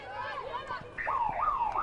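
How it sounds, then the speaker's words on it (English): Halftime siren at an Oceania Cup women's field hockey match between Australia and New Zealand, a wavering, rising-and-falling electronic tone that grows louder in its second half over faint background voices. "And there's the halftime siren."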